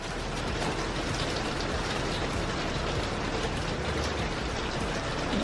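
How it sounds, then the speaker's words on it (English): Steady rain pours down outside on a wet, dreary day, a dense continuous hiss of drops striking surfaces that stays even and loud from start to finish, with no one speaking. "So you can hear the rain that's coming down"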